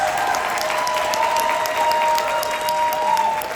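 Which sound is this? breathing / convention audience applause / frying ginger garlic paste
convention audience applause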